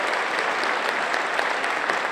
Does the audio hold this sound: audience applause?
yes